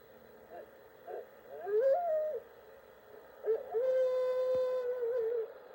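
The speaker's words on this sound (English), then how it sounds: "Lonely howl echoes across the forest" A lone animal howl drifts through an Arizona forest, made of faint wavering tones, then a longer sustained call with a rising and falling pitch, set against a quiet hiss.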